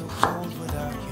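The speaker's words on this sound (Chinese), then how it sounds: "把马铃薯切一半，把马铃薯切片" A knife cuts a peeled potato half on a board with a single close, crisp chop, followed by a short quiet hum.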